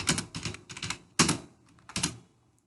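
Someone types a comment on a computer keyboard in several quick, clattering bursts of keystrokes separated by short pauses, close and clear with no talking.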